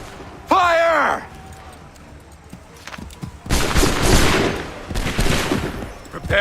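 Musket volley fire in the video game Assassin's Creed III: a shouted command gives way to two loud, crackling volleys of many muskets discharging together in close succession, with rumbling battle noise between them.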